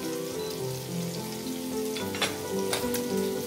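Vegetarian leftovers fry in a pan with a dense, steady sizzle, loud and close, broken by a couple of brief sharper crackles.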